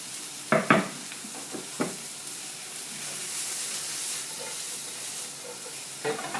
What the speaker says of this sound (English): Stir the chilies around a bit and then add the mushroom.